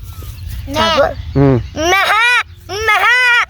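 A person imitates a goat's bleat with several shaky, wavering cries of varying length, loud and close, with brief gaps between.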